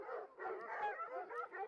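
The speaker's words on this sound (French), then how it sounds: "alertés par les cris de la meute enragée" A pack of hunting dogs on a royal hunt bays and yelps in quick, overlapping bursts, faint and somewhat distant, with brief gaps between the cries.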